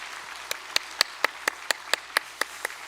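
Church congregation clapping to welcome new families at a Sunday service: a steady, evenly spaced run of crisp claps, moderately distant, with no talk over it.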